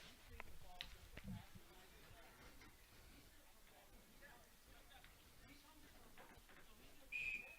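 A referee's whistle at a 2022 WIAA high school soccer match between Newman Catholic and Columbus Catholic gives one short, sharp blast near the end, rising over steady outdoor field ambience and faint background voices.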